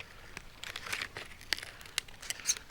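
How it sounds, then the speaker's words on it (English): Scissors trimming the ends of thin split cedar sheeting for a birchbark canoe, giving close, crisp crinkly snips and crackles with a few sharper cuts toward the end. "we shape the ends here with a pair of scissors"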